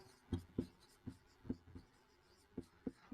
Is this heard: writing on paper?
yes